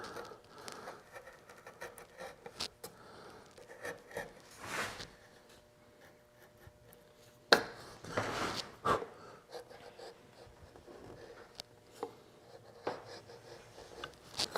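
A hand chisel cuts into a wooden spiral seashell carving, producing quiet, irregular scraping strokes and short rasping bursts separated by brief pauses, close and soft.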